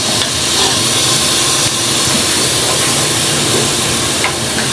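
Beef browning in a pot for a smoky yogurt curry gives a loud, steady hiss and sizzle close by, with faint scraping and clinks, and no talk.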